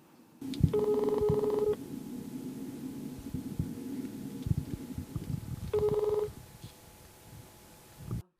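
Phone line during a call to an animal shelter that goes unanswered: a dialing tone burst, then repeated ringback tones with a pause between, a quiet line hum underneath and no voice picking up.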